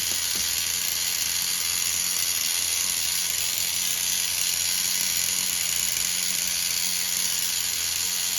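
Tamiya TGS-R nitro RC car engine idling hot, a steady high-pitched whirring buzz that holds even and continuous throughout, close and loud with no talking.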